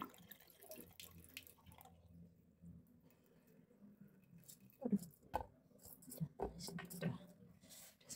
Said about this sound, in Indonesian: Baru kita tuang air dulu.